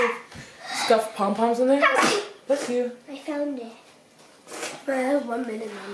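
Indoors at Christmastime, a short, sharp sneeze bursts out amid ongoing chatter. Someone talks before and after it.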